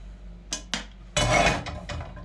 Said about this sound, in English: Now what we're gonna do is put a little oil in it, as you can see